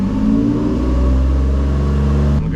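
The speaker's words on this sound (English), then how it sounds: "And when we're revving" A single-turbo Nissan 350Z with a DE engine revs loud and close, holding a steady, droning roar with strong low harmonics before it cuts off abruptly at the end.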